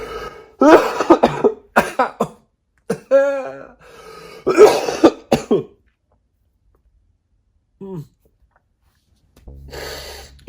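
A person sick with the flu coughs and clears their throat in several harsh bursts, close and loud, separated by pauses, with a brief vocal sound near the end.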